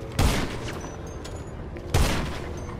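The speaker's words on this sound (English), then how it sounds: "He has explosive ammo, this guy" Explosive ammo gunfire in GTA Online, two heavy booming blasts about two seconds apart, each with a deep punch and a rumbling tail over continuous background noise.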